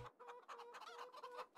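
Chickens in Farming Simulator 22 cluck in a quick, steady series of short calls, faint but close, with no speech over them.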